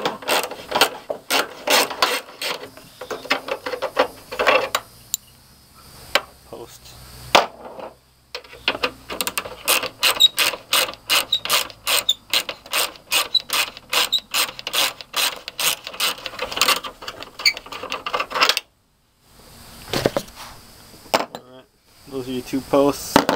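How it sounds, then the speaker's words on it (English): A nut driver ratchets out the headlight screws on a 1988–1998 full-size Chevy or GMC truck, with rapid repeated close clicking in long bursts broken by brief pauses. "Nut driver works well too, instead of a ratchet."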